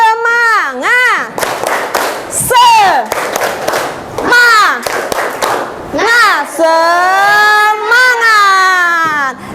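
A classroom of children performs a rhythmic spirit clap chant, sharp hand claps alternating with loud sung shouts from many young voices, led by a teacher at the front.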